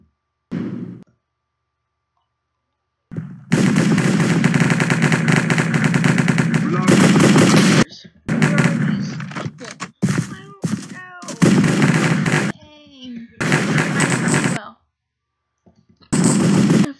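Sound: gunfire in a video game

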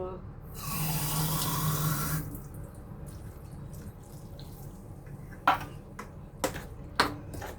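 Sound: water being poured into coconut milk

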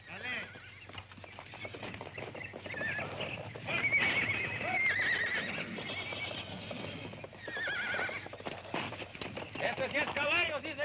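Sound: horse neighing and hooves clip-clopping

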